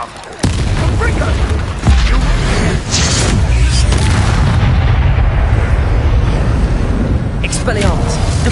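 A Confringo blasting curse detonates in a wizard video game, heavy booming blasts and a rumbling roar that sustain loudly through the clip, with spoken voices mixed in.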